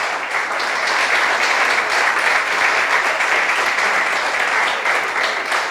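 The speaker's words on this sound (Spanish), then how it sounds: "¿Cuántos le dan un aplauso al Señor?" A church congregation claps steadily for the Lord during a service, a dense, even wash of applause that holds for nearly six seconds without a break.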